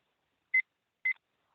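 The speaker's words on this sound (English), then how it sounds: "Okay, I'll set my timer." Timer being set at a committee meeting, giving two short, clear electronic beeps about half a second apart, faint and alone in silence.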